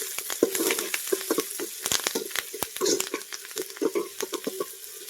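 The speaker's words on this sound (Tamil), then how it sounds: "இதை போட்டு நல்லா வதக்கிக்கோங்க." Garlic cloves and slit green chillies sauté in a pan, a continuous crackling sizzle broken by sharp stirring scrapes and clicks, close and fairly loud.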